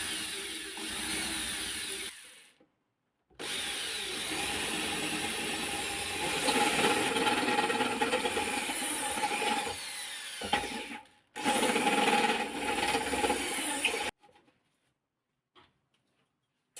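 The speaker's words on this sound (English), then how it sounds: "then with the aid of a small electric screwdriver" A small electric screwdriver works on a bench power supply case, giving a steady whirring buzz in long runs broken by short pauses, close and fairly loud, with no talk.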